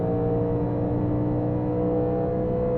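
A NASCAR Legends race car engine in iRacing, lapping Homestead Miami Speedway, holds a steady, loud revving drone with a strong layered hum throughout and no talk over it.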